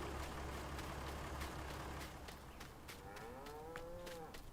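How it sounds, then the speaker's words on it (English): Cattle moo in Farming Simulator 19, a drawn-out bovine call near the end over a steady engine-like background hum and faint repeated ticking. "Hello, cow."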